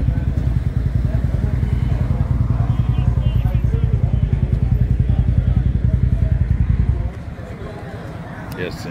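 A Harley motorcycle engine at a Hooters bike night, a loud steady rumbling idle that runs close by for about seven seconds before dropping off to a quieter background, with people talking over it.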